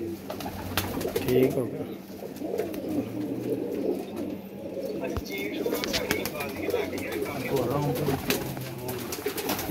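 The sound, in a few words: pigeons cooing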